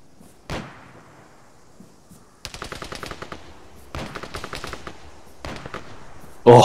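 Video game gunfire during a mountain firefight, with a single loud shot followed by three rapid automatic bursts, each a dense run of sharp cracks, ending in a loud blast.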